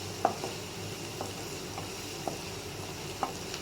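Onions lightly frying in oil in a pan for a boneless chicken karahi, giving a faint, steady sizzle with a few sharp spoon-stirring clicks spaced through it.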